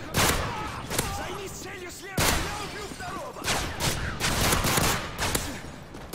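Shotgun fire in a survival shooter video game, several sharp loud blasts spaced a second or two apart amid other gunfire, with a voice talking in between.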